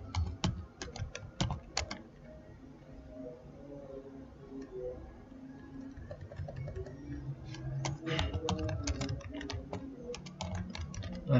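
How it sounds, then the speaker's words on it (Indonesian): Quick bursts of computer keyboard typing as a method title is entered in TQ Analyst chemometrics software for FTIR analysis. The clatter comes in uneven clusters of close, crisp key taps, pausing midway, with no talking. "Metode title-nya pertama kali kita ketikkan ini"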